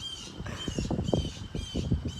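A loud bird, likely a crow, calls repeatedly outdoors in a run of harsh, closely spaced squawking caws that rise and fall, fairly close and dominating the scene.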